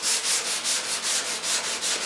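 Sandpaper wrapped around a hardwood block rubs over fiberglass in quick, rhythmic back-and-forth strokes, a close, raspy hiss repeating about four times per second.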